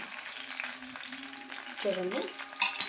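Green chilies fry in oil for a cabbage chutney, with a steady moderate sizzle and occasional crackles, a brief tonal squeak midway and a sharp clink near the end.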